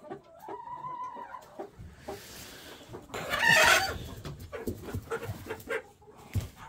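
Hens sitting on eggs cluck faintly in a poultry coop where a rooster is also kept, with intermittent calls and a louder squawking burst midway.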